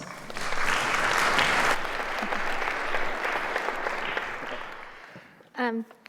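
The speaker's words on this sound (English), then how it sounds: "Please give them a big round of applause." A big round of audience applause greets panelists at a conference panel, swelling quickly, holding steady for several seconds, then fading, with a brief voice at the very end.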